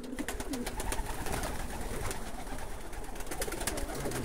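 Polish breeding pigeons coo steadily in a loft, soft throaty calls overlapping throughout amid rustling and background noise.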